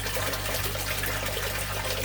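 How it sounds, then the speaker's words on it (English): Fresh water is poured to top up a fish tank after draining, a steady, dense rushing and trickling flow heard up close and unbroken, with no voices. "I'll top them up with fresh water."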